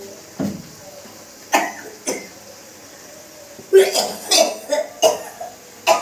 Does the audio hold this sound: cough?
yes